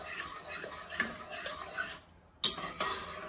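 A spoon stirs pasta sauce with whole basil leaves in a pot, soft wet swirling broken by a few light clinks of metal against the pot, close and quiet.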